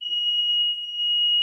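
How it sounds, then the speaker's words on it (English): A fire alarm going off indoors, one steady, piercing, unbroken electronic tone held loud and close for the whole moment, with no voices over it. "that was a fire alarm going off here"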